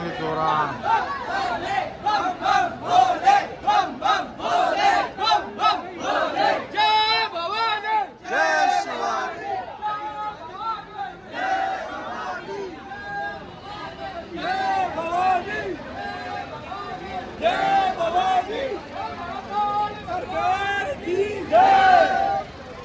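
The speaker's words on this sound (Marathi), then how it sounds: "गर्दी बघा अजून जवळ काय पोहोचत नाही" A large crowd of pilgrims at the Omkareshwar temple chants and shouts together in rhythmic surges, loud and close, with overlapping voices and babble throughout.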